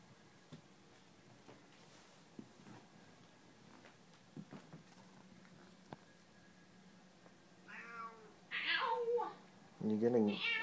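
A kitten on fresh catnip lets out several loud, drawn-out meows near the end, after a stretch of quiet with faint ticks and small rustles.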